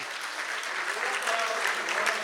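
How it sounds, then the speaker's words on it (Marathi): Steady, dense applause from a large audience at a concert of songs, an even wash of clapping with faint voices mixed in underneath. "त्यांच्या आणि कलाकारांसाठी एकदा परत तुम्ही सगळे टाळ्या बघ"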